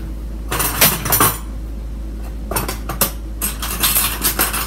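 A small butter knife clinks and scrapes against a metal baking sheet while freeing sugar cookies, with bursts of close metallic scraping and clattering separated by short pauses.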